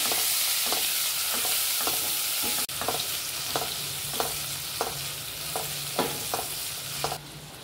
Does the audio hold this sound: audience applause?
no